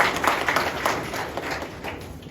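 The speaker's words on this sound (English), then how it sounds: "we'll give a round of applause to ma'am" An audience at a professors' workshop in India gives a short round of applause, a steady wash of many hands clapping at moderate volume, with no talk over it.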